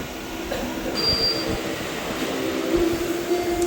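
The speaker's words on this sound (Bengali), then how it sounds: "ট্রেনটা বেরিয়ে গেল।" A local train pulls out of a station platform, a steady broad rumble with a faint high tonal whine, continuous and fairly close with no talk over it.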